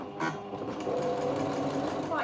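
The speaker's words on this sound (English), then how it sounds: "The first seam I'm sewing is just down the raw edge of the folded bag" A sewing machine runs a seam along the raw edge of a folded fabric tote bag, a continuous close buzzing hum. Speech may sit faintly under the motor.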